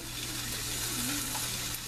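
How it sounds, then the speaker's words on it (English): Steady, soft sizzling of trout cooking on an electric George Foreman grill, a continuous crackling hiss with a low hum underneath. "Listen to that sizzle."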